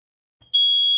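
A home smoke alarm set off while dinner is cooking begins after a brief soft rustle, then holds a loud, piercing, unbroken electronic tone to the end.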